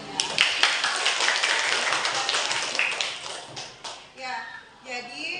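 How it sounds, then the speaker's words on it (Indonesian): Classroom applause for a student named Vito, a burst of clapping and tapping from a group of pupils lasting a few seconds before fading, with a voice speaking over the end. "Beri tepuk tangan dulu buat Vitonya."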